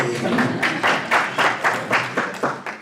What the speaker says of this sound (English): I'll come back when people are clapping.